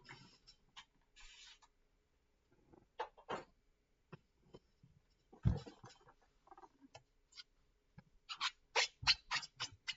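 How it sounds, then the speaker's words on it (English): Squeaks from wiping and cleaning a surface while crafting, sharp intermittent rubbing squeals and short scrubbing bursts scattered across the stretch, close and fairly quiet, growing denser toward the end. "Oops, sorry for the squeaking."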